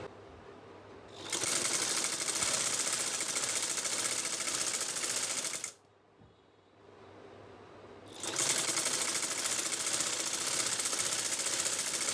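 A sewing machine runs steadily while stitching the sleeves of a four-piece kameez, pausing briefly near the middle before starting again at full speed. The whirring is close and continuous, with no talking.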